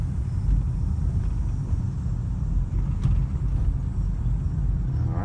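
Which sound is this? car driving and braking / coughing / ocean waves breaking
car driving and braking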